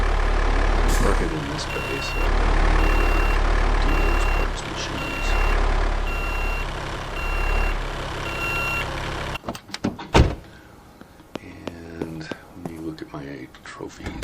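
A truck reverses to park in the Car Dealer Simulator video game, its backup alarm beeping in a regular series over a loud engine rumble, then stopping as clunks and knocks follow and a voice murmurs quietly.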